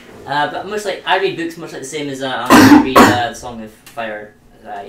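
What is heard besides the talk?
a cough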